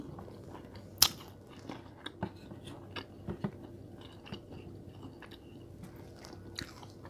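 Someone chews cold McDonald's fries close up, quiet crunchy bites and soft mastication repeating at an irregular pace, one sharper bite early on, with no talking.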